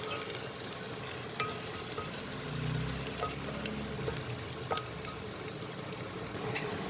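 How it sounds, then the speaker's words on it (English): Onions sauté with spices and green chilies in a pan for soya pulao, a steady close sizzle and crackle with occasional stirring scrapes, continuous and even throughout. "Here I'm going to saute the onions with the spices and the green chilies"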